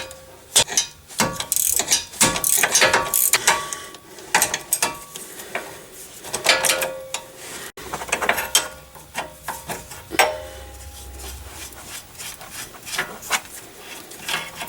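Ratchet wrench clicking steadily as a tight sway bar bushing bolt is loosened on a GMC Acadia, with repeated bursts of rapid pawl clicks, some metallic clanks and brief pauses, close and fairly loud with no talking.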